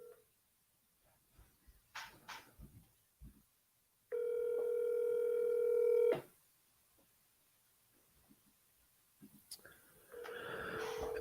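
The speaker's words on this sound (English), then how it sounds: "Looks like it's dialing." A telephone call in progress: a steady electronic tone holds for about two seconds after faint handling noises and breathing, then rustling returns and another tone starts near the end.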